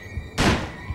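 A single muffled, thudding sniper rifle shot in the video game Manhunt, one short burst standing alone over a quiet hum.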